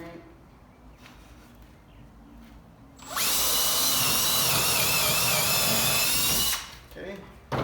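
A power drill drives screws into wood during a garage makeover, one sustained loud whirring burst of about three and a half seconds, with quieter workshop ambience before and after.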